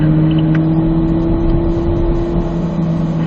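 A car accelerates and upshifts on a driving course marked with turning cones. The engine holds a steady, loud drone close by throughout, with no talking.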